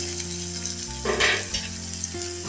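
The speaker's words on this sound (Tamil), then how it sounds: "பூண்டு வெங்காயம் இஞ்சி இவங்க எல்லாரும் நல்லா வதங்கிட்டோம்" Garlic, onion and ginger sautéing in a pan for a chicken dish, a continuous close frying sizzle with a brief louder burst of spattering as the pan is stirred.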